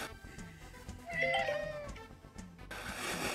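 Pet cat meowing repeatedly in a short series of drawn-out, wavering cries, fairly close and distinct over faint room noise, with no talking.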